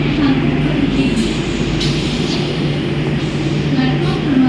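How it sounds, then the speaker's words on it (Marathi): A fast local train on Mumbai's Central line pulling into Vikhroli station, a loud steady rumble and rolling clatter with a low hum, with station noise and voices mixed in. "10:29 की मुंबई छत्रपति शिवाजी महाराज टर्मिनस जाने वाली तेज लोकल थोड़े ही समय में प्लेटफॉर्म क्रमांक 4 पर आ रही है"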